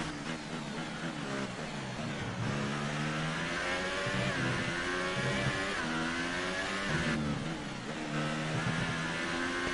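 Formula 1 car engine in the F1 2018 video game, revving high with rising and falling pitch sweeps as gears shift, loud and continuous with no talk.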